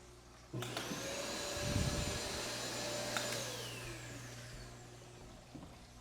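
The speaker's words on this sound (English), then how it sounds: "To get the siphon started, I'm gonna click the button, put the hose in there, and get to cleaning." A TankleBox aquarium siphon pump draws sand and algae from a fish tank, giving a steady, loud whirring motor drone with a high whine that clicks on near the start and keeps running through the whole stretch, with no talk.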